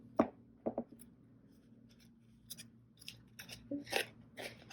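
Scissors trim loose threads on a handmade shaker envelope, a few quiet close snips and small paper rustles spread out with pauses between them.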